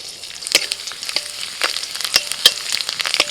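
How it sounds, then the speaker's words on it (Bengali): Chopped garlic frying in oil in a wok as a Bengali dish is cooked, a steady close sizzle with sharp crackles and pops scattered throughout, and no talk. "কড়াইতে তেল দিয়ে দিয়ে দিচ্ছি রসুন কুচি"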